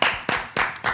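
A few bursts of clapping in quick succession, close and fairly loud, like a small group applauding briefly.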